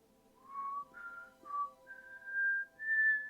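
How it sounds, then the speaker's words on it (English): A single person whistles a song melody alone, a clear, close series of rising and falling notes in short phrases separated by brief pauses. "I don't know if I can whistle it very well, but he came out and he started off whistling it"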